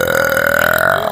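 A single long, loud burp rumbles steadily for about a second, close to the mic and alone.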